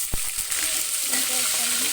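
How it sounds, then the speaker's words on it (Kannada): Onions sizzle in hot oil in a pan for drumstick sambar, a steady close hiss with a sharp clink at the start and faint stirring. "ಸೇರಿಸ್ತಾ ಇದ್ದೀನಿ ನಾನು ಈರುಳ್ಳಿ"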